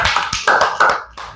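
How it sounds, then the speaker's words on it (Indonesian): A classroom of pupils claps together in a short, loud burst of several uneven, overlapping claps close by, ending almost at once. "tepuk tangan untuk kita semua"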